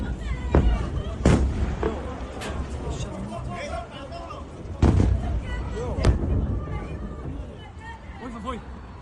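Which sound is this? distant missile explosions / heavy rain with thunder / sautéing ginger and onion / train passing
distant missile explosions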